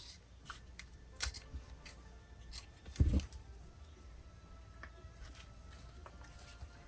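Scissors snip through the end of a zipper while sewing a bag, one quiet, brief cut with a soft thud amid faint handling rustles in a quiet room.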